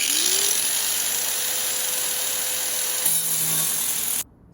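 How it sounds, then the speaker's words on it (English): A power drill bores holes in a catalytic converter shield on a Prius, a loud, sustained whirring whine that holds steady for about four seconds before stopping. "So I marked holes over here where I'm gonna be drilling it."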